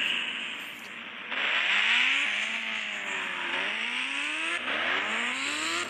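A Pulsar motorbike engine revs at a hill-jump challenge. The pitch climbs and drops in repeated surges, and after a brief lull it roars louder and keeps rising in several more bursts, with no speech over it.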